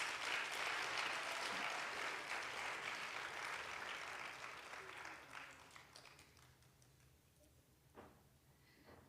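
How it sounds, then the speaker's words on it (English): Audience applause following an Odissi dance performance at a Rang Pravesh debut, a dense wash of clapping that starts loud and full, then thins and fades over several seconds into scattered claps. "Please give her another hand of applause."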